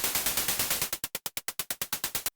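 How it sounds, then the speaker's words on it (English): Synthesized white noise for a hard warehouse techno track hisses in rapid bursts, first as a steady pulsing stream, then as sharper separate stabs in a quick even rhythm, ending abruptly. "we're going to switch this to white noise"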